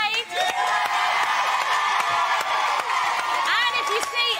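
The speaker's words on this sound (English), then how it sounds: "A big round of applause for Jade." Audience at a game show erupting in loud, continuous cheering, shouting and applause, with voices mixed into the crowd noise throughout.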